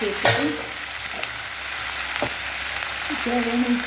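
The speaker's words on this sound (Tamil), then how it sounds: "கத்திரிக்காய் நல்லா வணங்கிட்டு தக்காளி சேர்த்துக்கலாம்." Brinjal and tomato frying for a South Indian kadasal, a continuous close sizzle broken by a few sharp clicks and scrapes of a spoon against the pan, with no talking.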